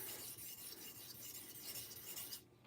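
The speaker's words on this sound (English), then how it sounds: "Just sharpening a karambit here." Karambit knife drawn across a sharpening stone, a steady continuous rasping scrape close up, stopping abruptly near the end.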